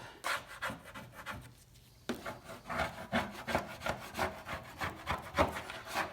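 A small Ace Hardware plastic razor blade scrapes a two-coat coating off a surface in quick, rhythmic strokes. Each stroke gives a close, raspy rubbing sound, with a brief pause before the scraping resumes steadily.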